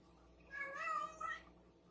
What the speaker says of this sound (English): You guys heard that? Freaking cat's talking.